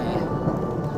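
Thunder rumbles low and continuously through steady rain on the Hallasan Dulle-gil forest trail, heard close and loud with a dense wash of rainfall over it.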